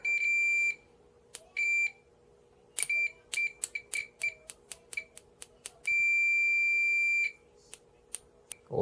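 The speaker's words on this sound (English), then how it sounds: "Wow, really poor continuity buzzer all around." The continuity buzzers of BK Precision 2860A, 388B and 391A multimeters sound weak, in short high beeps and longer steady tones, starting and stopping irregularly, close and loud over a faint hum.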